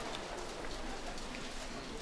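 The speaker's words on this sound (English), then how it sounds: "The rain continues to fall." Steady rain falls at an outdoor trap shooting range during a women's World Cup final in Changwon, Korea, a continuous faint hiss of drops on surfaces with no distinct shots.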